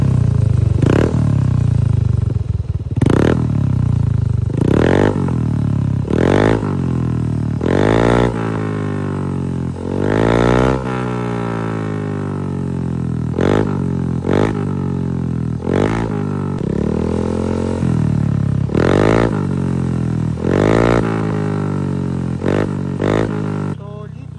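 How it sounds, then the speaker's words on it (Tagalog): A Miyagi 125 motorcycle fitted with a plug-and-play Kevin 5 exhaust pipe revs repeatedly up close, its loud engine rising and falling in sweeping bursts over a steady idle for about twenty-four seconds. "sound check muna natin to Kevin 5 na pang Miyagi 125"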